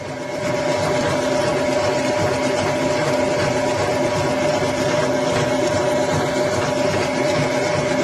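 An electric mixer whisk beats meringue buttercream in a steady, unbroken motor whir with a busy rattling hum, loud and close, running alone without pause.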